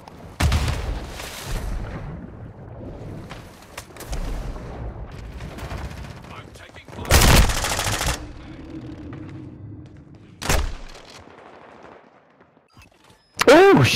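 Automatic fire from the Vaznev 9K in Call of Duty: Modern Warfare II multiplayer comes in several short, loud bursts separated by pauses, with explosions and distant battle noise, while a player talks between shots.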